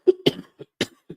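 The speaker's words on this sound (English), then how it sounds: "Excuse me again for the cough, guys." A short run of dry coughs from a man, four or five abrupt hacks spaced unevenly over about a second, close to the mic with no talk over them.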